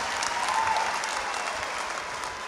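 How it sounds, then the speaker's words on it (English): A university crowd at a 2022 spring graduation ceremony applauds steadily, a thick, even wash of clapping from many hands that fills the hall without a break or any speech. "Can we give him a big round of applause"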